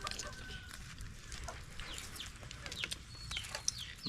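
Chickens cluck softly in the background amid steady outdoor noise, with scattered short calls and chirps throughout.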